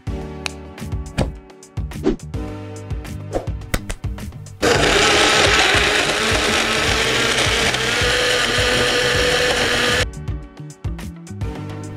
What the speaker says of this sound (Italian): Metto tutto nel frullatore e il gioco è fatto.